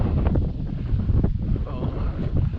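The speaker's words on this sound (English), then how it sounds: "It's a little bit breezy, but it should be fine." Breezy wind outdoors at Roswell Space Park buffets the microphone in loud, uneven rumbling gusts that continue without a break.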